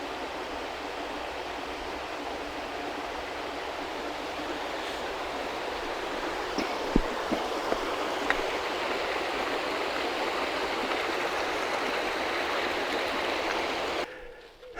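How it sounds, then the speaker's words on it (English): Water rushes steadily through a sluice gate in the Tamar Valley, a loud continuous broadband roar that stays even throughout with a few faint knocks. "I take it it's some form of sluice gate."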